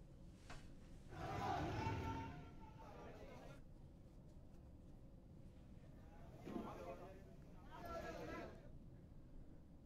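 Villagers chant protest slogans in two loud rhythmic bursts, a crowd of raised voices heard at a distance with quieter murmuring between them.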